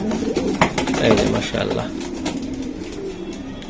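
Racing pigeons in a loft coo softly beneath someone talking nearby, with the low burbling calls continuing steadily under his voice.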